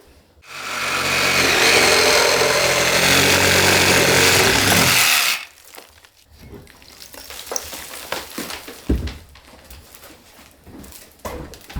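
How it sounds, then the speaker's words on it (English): A reciprocating saw fitted with a metal-and-wood blade cuts through an old 200-year-old ceiling, giving a loud, steady buzzing roar for about five seconds. It then stops, leaving scattered clatter and knocks of falling debris. "So we're using the reciprocating saw with a metal and wood blade."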